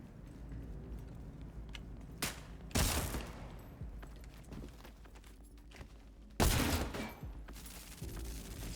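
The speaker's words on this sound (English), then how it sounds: "Shooting them with shotguns is a good way to try to get them bugged." Shotguns fired in a video game: two loud, sharp blasts several seconds apart with a few fainter shots between, over quiet game ambience and no talk.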